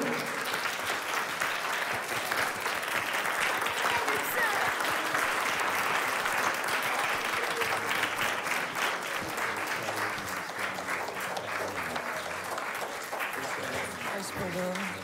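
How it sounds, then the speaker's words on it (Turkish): A large hall audience applauds to welcome Tan Doğan, dense, sustained clapping that stays loud and steady throughout with no pauses. "Kocaman alkışlarınızla Sayın Tan Doğan'ı alıyoruz."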